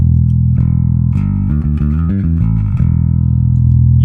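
Guitar played through a distortion pedal plays sustained, heavily driven notes, with a quick run of changing notes in the middle before settling back on a loud held tone, and no talking.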